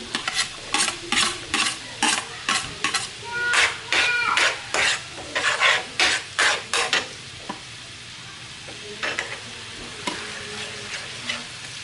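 Chopped onion sizzling in a hot pan while a utensil stirs it in a quick run of scraping strokes, busy and close for about seven seconds, then quieter frying with a few scattered stirs.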